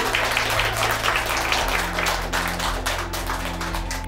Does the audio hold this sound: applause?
yes